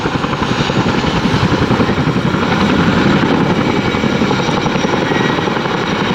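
A Chinook twin-rotor helicopter hovers at an RAF Cosford airshow, its rotors giving a loud, steady, rapid blade chop with a continuous engine roar that holds constant throughout.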